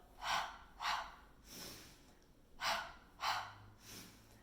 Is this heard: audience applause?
no